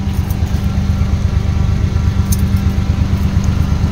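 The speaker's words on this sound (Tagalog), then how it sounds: "So umaandar pa rin ang makina hanggang ngayon." Suzuki DA63 with a K6A engine idles steadily, a low continuous rumbling hum holding even throughout, close and fairly loud, with a faint light metallic clink briefly in the middle and no talk.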